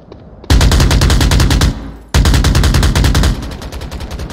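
Rapid automatic gunfire from holy bullets in a VR shooter game, two loud sustained bursts of fast repeated shots separated by a short gap, the second burst trailing off.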